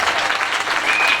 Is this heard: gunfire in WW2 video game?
no